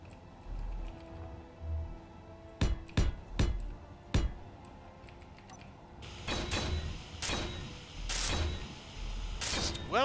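Welding tool in the game Space Engineers: a series of sharp clicks and ticks, some single and some in quick bursts, over a low hum, with the background thickening halfway through.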